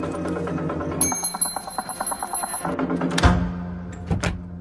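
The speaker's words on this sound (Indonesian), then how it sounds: "Helena mendengar lonceng parameter berbunyi" A small perimeter alarm bell at a house jingles in a rapid, rattling ring for a couple of seconds, followed by dull thuds and knocks nearby.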